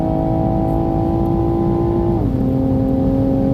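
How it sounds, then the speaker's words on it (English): A 2021 Toyota Supra pulls hard under load from 60 toward 130, its engine tone climbing in a loud steady whine with wind and road roar underneath. The pitch briefly drops at a shift, then keeps rising. "Second time, 60 to 130 in the Supra."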